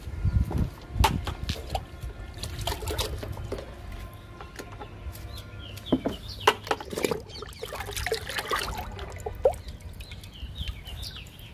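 Thick undiluted kitchen waste liquid fertilizer pours and splashes onto potted plants such as pomegranate, in a few uneven gurgling bursts nearby, with hens clucking faintly in the background.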